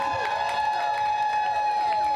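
Audience at the Pride South Side podcast stage in Chicago claps and cheers in a steady, dense crowd wash, with a whistle-like tone over the noise, sustained throughout.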